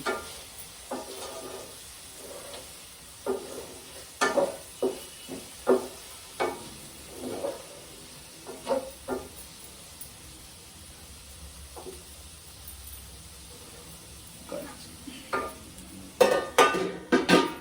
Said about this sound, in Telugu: మధ్య మధ్యలో కలుపుతుండాలండి, లేకపోతే ఉల్లిపాయ మాడిపోతుంది.